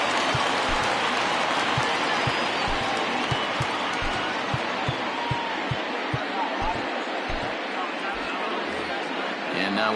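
Simulated stadium crowd in the baseball video game MLB The Show 20, a broad roar of cheering and applause filling the whole stretch, with rhythmic thumping stomps or claps pulsing through the first half.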